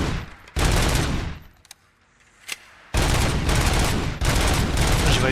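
Gunfire from a machine gun in the video game RoboCop: Rogue City, in loud, sustained bursts of rapid shots broken by a short quiet gap with a couple of isolated shots before the firing resumes.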